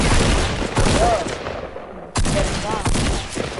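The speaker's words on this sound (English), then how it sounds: "I'm about to blow him up with this light machine gun." A light machine gun fires in a PS4 video game, loud rapid bursts that break off for a moment and then resume, with a voice briefly speaking over the shots.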